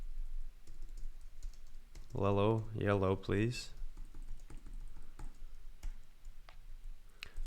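Soft clicking of a computer keyboard being typed on, quiet and irregular keystrokes scattered through the stretch, with a brief spoken phrase near the start.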